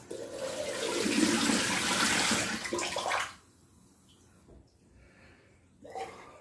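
Cold water pours in a loud, steady, rushing stream for about three seconds, then stops abruptly. A short splash follows near the end against a quiet background.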